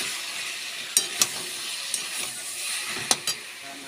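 Cabbage stir-fries with rohu fish head in a pan, giving a soft steady sizzle broken by a few sharp spatula clicks and scrapes, close and fairly quiet with no voices.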